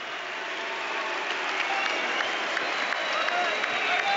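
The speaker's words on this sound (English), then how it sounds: "A round of applause for both of these fighters in the ring here tonight." An arena crowd at the O2 applauds boxers David Haye and Tony Bellew after their fight, a broad sustained roar of clapping with crowd voices mixed throughout, carried over a radio broadcast feed.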